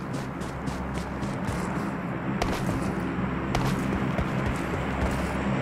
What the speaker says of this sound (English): Don't it sound like it's a car coming?